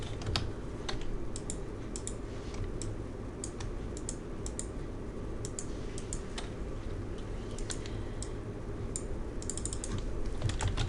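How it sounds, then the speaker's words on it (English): A company name is typed on a computer keyboard as a steady stream of light, close key clicks over a constant background hum, with no talk. "Type in the name of your company."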